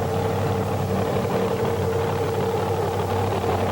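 A pulling truck with a 1908 Chevrolet body and a modern engine runs with a steady, loud, droning rumble at a constant pitch, close and continuous with no talk.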